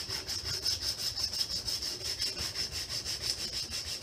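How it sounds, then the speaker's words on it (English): Close, steady back-and-forth rasping strokes of sanding on a wooden knife handle, about four strokes a second, an even scratchy rhythm with no talking. "It's called sanding."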